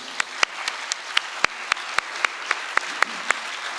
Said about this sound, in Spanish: Ahora hacemos el aplauso.